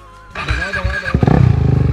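A KTM Duke 390 motorcycle engine fires up close and loud, settling into a rough, rapidly pulsing idle.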